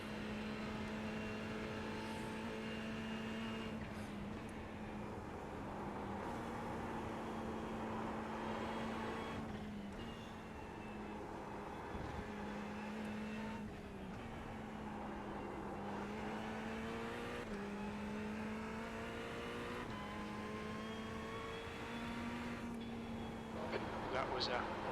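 Ferrari 488 GT3 EVO race car engine in iRacing at Mosport, a sustained loud drone rising and falling through repeated gear changes and revs, with a person talking over it.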